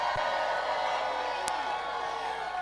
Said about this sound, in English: Y'all give our governor another round of applause.